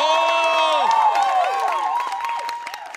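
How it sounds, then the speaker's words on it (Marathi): A studio audience at a Marathi comedy show claps and cheers for a performer. Loud, rising and falling whoops and tonal calls sit over a wash of clapping that fades slightly toward the end. "अजय कांबळेंसाठी एकदा जोरदार टाळ्या"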